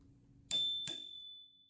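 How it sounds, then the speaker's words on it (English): Two quick bright dings from the small mini bell on a Segway ZT3 Pro electric scooter, close and clear, the second ring fading out slowly with no talking. "there's even a mini bell to politely clear the path."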